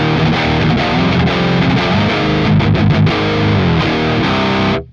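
Heavily distorted electric guitar chords through the stock distortion channel of a Joyo banTamP Vivo amp, no pedals, played loud and up front, ringing continuously before cutting off abruptly at the end.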